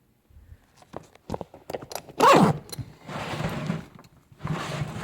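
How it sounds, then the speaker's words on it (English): A zipper on an HVAC service tool bag pulled shut in a few quick rasping strokes, with a sharp burst followed by longer scratchy pulls, close by and fairly loud. "Zipper up."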